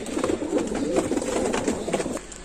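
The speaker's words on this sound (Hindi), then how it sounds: "सारे कबूतर एक साथ में आपको दिखला रहे हैं" A flock of domestic pigeons kept at a house in Lucknow cooing steadily, soft overlapping low coos continuing throughout at close range with no voices.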